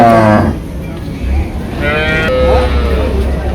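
Several cows moo loudly nearby, long drawn-out calls overlapping one another amid the bustle of a crowded village cattle market.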